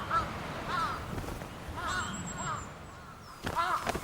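Several harsh jungle crow caws repeat in bursts over a low rumble of background noise, some overlapping as the birds squabble nearby in a Hokkaido winter.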